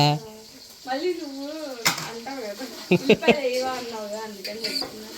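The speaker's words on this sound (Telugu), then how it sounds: "ఉల్లిపాయలు వేగినాయి కదా" Sliced onions fry in a pan, a light sizzle mixed with spoon stirs and clinks against the metal, while people talk over it.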